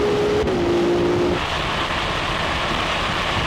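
Porsche 911 Turbo S and Ferrari 296 accelerating hard side by side in a drag race, a loud steady roar of engines and wind noise with a brief rising tone near the start.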